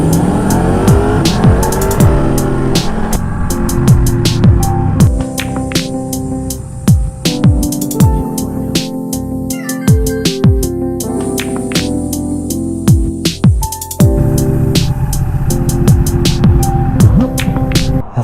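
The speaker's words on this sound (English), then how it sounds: "We're trying to jump start, push start Carl's bike." An Aprilia RSV4 motorcycle being push started, its engine catching and revving in rising and falling sweeps beneath steady background music, with loud, continuous roaring throughout.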